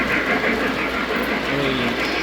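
A model train runs along a home layout with a steady, continuous rolling rumble and mechanical hum, moderately loud and close, with no clear pauses.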